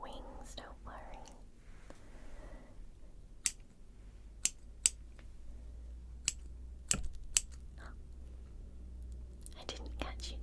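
Scissors snip away near a whispering voice in a quiet room, a series of crisp, isolated clicks spaced irregularly over several seconds, with soft rustling and breathy whispers around them.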